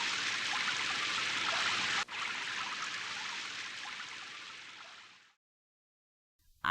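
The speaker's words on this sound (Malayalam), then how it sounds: "മഴ ചോരുന്ന ലക്ഷണമില്ലല്ലോ" Steady cartoon rain, a dense hissing downpour that runs evenly for about five seconds, briefly dips once, then fades into silence.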